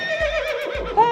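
A pony neighs close by, a loud quavering whinny with wavering pitch that rises sharply near the end, over a brief muffled thump or two.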